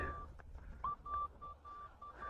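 A metal detector's thin electronic tone beeps repeatedly in short pulses over faint background noise while searching a vegetable garden, a quiet, fairly regular series of bleeps.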